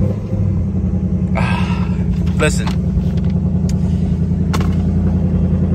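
A 2024 Ford Mustang Dark Horse with a 10-speed transmission rumbles loudly at close range, its deep engine note steady throughout while people talk over it.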